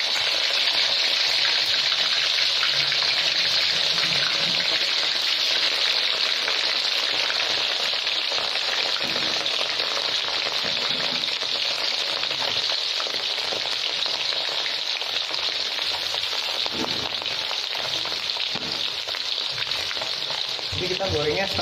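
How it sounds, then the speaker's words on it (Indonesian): Boiled, smashed beef for dendeng fries in hot oil with a loud, steady sizzle and crackle that runs continuously for about twenty seconds, with faint stirring now and then. "Dagingnya rebusan tadi digeprek, kemudian kita goreng lagi."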